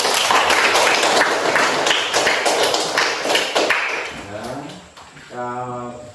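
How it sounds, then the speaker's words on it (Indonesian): Schoolchildren in a classroom clap together in a burst of quick, sharp claps that thin out and stop, followed by a voice speaking. "Ya, tepuk tangan sekali lagi."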